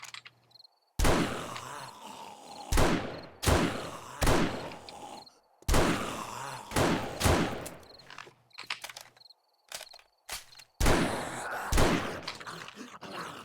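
Marksman rifle shots in the video game 7 Days to Die, a series of sharp loud reports spaced irregularly, some in quick pairs, with brief quiet gaps between them.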